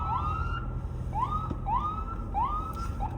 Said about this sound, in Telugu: పక్కకు ఆపుదాం, అంబులెన్స్ వస్తుంది.